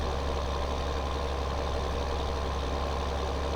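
A tractor engine in Farming Simulator 2015 drones steadily, a continuous low, even rumble with no breaks and no talking.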